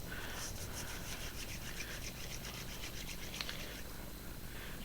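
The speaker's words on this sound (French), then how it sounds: "Donc on mouille le galet. Un petit peu plus. On frotte." A wet solid shower bar made with three milks is rubbed by hand, giving a continuous soft, close scrubbing friction with slight rhythmic strokes and no talking.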